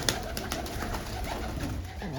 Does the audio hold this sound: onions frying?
no